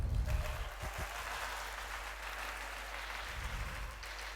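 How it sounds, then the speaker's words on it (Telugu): An audience claps at a speech at a Ramayana conclave, a dense, steady wash of applause, fairly distant and moderately quiet, running throughout without a break. "ఈ చప్పట్లు నా కోసం కాదు"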